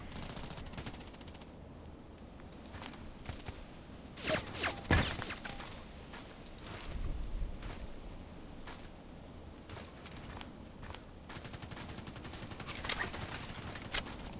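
Rapid automatic fire from a DT SRS rifle in a shooter video game, with repeated sharp gunshot bursts scattered through the stretch and a few louder cracks standing out over a steady game background.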